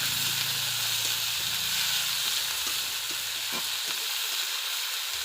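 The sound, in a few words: frying tomato and onion in a pan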